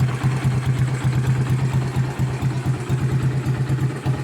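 A Kawasaki Fury 138cc motorcycle engine idles cold nearby after a general overhaul, with a steady, low, pulsing chug that never changes pace.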